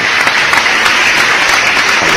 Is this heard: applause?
yes